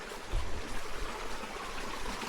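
A forest creek flowing over a sandy bed in a national forest, a steady soft gurgling trickle with a few low bumps near the start, close and fairly quiet.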